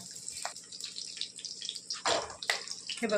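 Potatoes being rinsed under a running tap in a home kitchen, with water splashing steadily and stronger gushes near the end, close by and with no voices.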